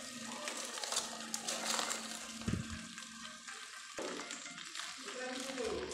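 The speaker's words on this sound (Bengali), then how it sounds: "এভাবে মাছ ভাজাটা পুরো কমপ্লিট হয়ে যাবে" Rohu fish fries in a pan on a medium flame under a banana leaf cover, with a steady crackling sizzle and occasional stirring scrapes and a couple of soft knocks, close and fairly quiet throughout.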